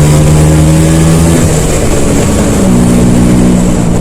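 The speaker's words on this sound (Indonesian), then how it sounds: "gua gas dulu bro." A 2004 Vespa Excel scooter engine revving while riding, a loud close droning engine whose pitch dips and then climbs again as the throttle changes, with wind rush, no talking.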